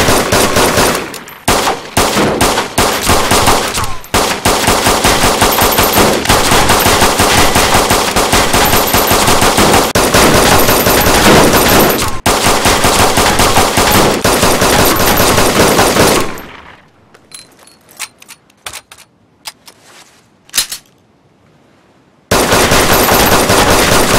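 An SKS rifle fires in rapid, continuous bursts in the video game DayZ, dense loud cracks for about sixteen seconds, then a few scattered shots and handling clicks before firing resumes at the end.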